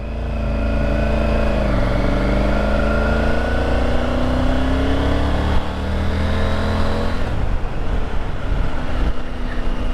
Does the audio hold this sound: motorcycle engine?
yes